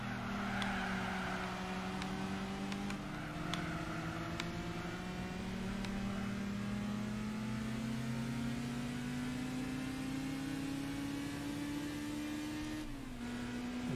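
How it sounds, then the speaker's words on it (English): A race car's engine in the video game Gran Turismo 4 holds a steady, rising drone as it accelerates through the gears, with a clear shift drop near the end and faint clicks underneath, no voices. "I like the car sound."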